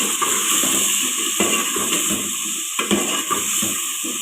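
Spoon clinks and scrapes against a pan while potato, carrot and fenugreek curry with green chillies and spices is stirred, with a steady background hiss and repeated close metallic taps.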